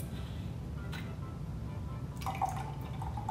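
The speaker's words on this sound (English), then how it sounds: "If you like, guys, you can even add your vinegar." Vinegar being poured into a Greek salad dressing, a faint trickle followed by a thin, steady pouring stream over low background hum, with no speech.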